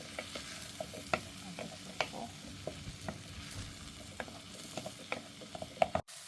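Chopped onions fry in a pan of oil while olives are tipped in for an olive, mushroom and cream tagine, giving a steady soft sizzle broken by scattered spoon clinks and scrapes.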